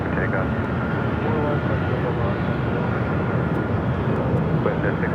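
A Delta airliner takes off from runway 24 left at Los Angeles International Airport, its engines a steady, broad roar that holds at an even loudness throughout.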